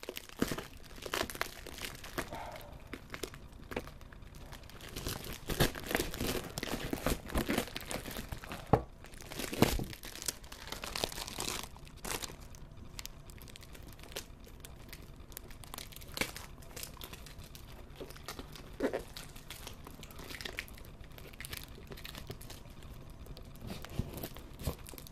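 Packing tape being torn and crumpled while a heavily taped box is opened, giving a long continuous stretch of crinkling, ripping and crunching that is fairly close but quiet.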